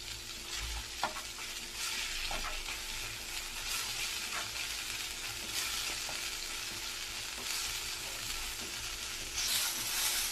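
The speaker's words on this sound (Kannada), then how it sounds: "ಮಸಾಲ ಇದು ಚೆನ್ನಾಗಿ ಫ್ರೈ ಮಾಡ್ಕೋಬೇಕು" Mutton chops in a pepper masala with onion paste frying in a pan, a continuous crackling sizzle broken by repeated scraping stirs of a spoon, close and fairly loud with no talking.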